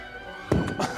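A mortar tube fires on a shooting range, one heavy, close thump followed by a second dull thud and a short rumble trailing off.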